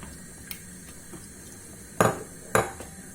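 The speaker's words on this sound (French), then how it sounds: "Et je vais remuer ma cocotte jusqu'à ce que ça commence à bouillir" A spoon knocking and scraping against a cooking pot while stirring harira soup with vermicelli, three sparse metallic clanks over a low background hiss.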